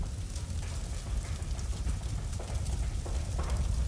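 Horse hooves clip-clop steadily on a street in a Sherlock Holmes detective game, a busy rhythmic patter over a dense low rumble of background ambience.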